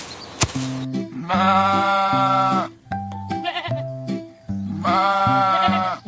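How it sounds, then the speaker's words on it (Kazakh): A goat bleats loudly and close, three long wavering calls separated by short pauses, set over a simple repeating electronic melody. "Ешкі қандай дыбыс шығарады?"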